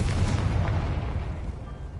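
A Confringo fire spell blasting in Hogwarts Legacy, a single loud booming explosion that rumbles and fades over about two seconds.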